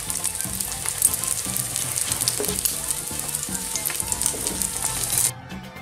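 Eggs frying in oil in a pan for a Vietnamese breakfast, a steady close crackling sizzle with scattered pops and spits, running continuously before cutting off abruptly near the end.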